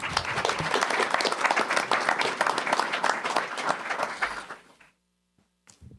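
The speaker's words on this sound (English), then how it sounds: "Let's give them one more round of applause, please." An audience at a school district board meeting applauds third grade teachers and students, a dense, steady wash of clapping that fades out near the end, leaving near silence.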